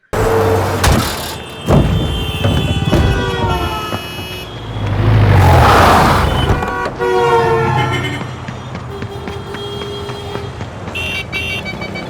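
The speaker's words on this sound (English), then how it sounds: "we used a Doppler effect of the horns of the traffic" Traffic horns in a film scene of a car crossing a road blare loudly with Doppler pitch shifts, layered over rumbling vehicle noise and a swelling whoosh mid-scene, with several sustained honks overlapping throughout.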